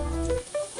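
Carrots frying in a pan, a steady sizzle with brief stirring scrapes over a short stretch, close and fairly loud with no talk.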